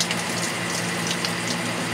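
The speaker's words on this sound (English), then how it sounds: "This means water's flowing from the seacock." Water flowing from a sailboat's seacock just below the waterline, a loud, steady gushing rush heard up close and continuous throughout, with no talk.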